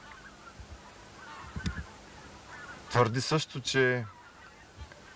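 Greater white-fronted geese at the Burgas lakes in Bulgaria give a short flurry of loud, overlapping honking calls, preceded by someone talking in the foreground.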